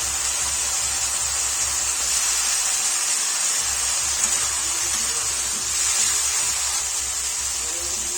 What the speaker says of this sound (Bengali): মশলা কষানো হয়ে গেছে এবারে চিকেনগুলো দিয়ে দেবো